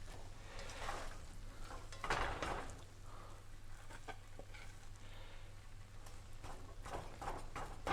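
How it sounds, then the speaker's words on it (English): A utensil scrapes and knocks against a pan as vegan Just Egg is mashed into pad thai noodles, giving faint, irregular clinks and scuffs at a low level. "put some of this egg in there and just start like mashing it up in there"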